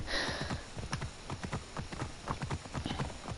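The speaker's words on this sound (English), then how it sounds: "You can mount horses as well." Steady clip-clop of horse hooves trotting along at a quick, even rhythm, fairly close, with faint background hiss, from the video game Assassin's Creed Origins.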